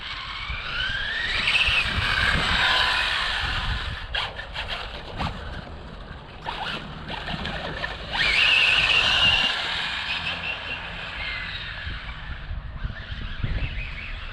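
Hobao Hyper 9E RC car running on a 4S battery with a new ESC: a high-pitched electric motor whine that rises and falls as it passes, with scraping and rattling in between. No talk.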